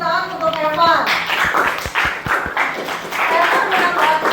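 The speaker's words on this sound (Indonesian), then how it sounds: "Kasih tepuk tangan untuk Evan." A small classroom group claps briefly for a student after a presentation, a handful of distinct claps heard beneath and between people talking.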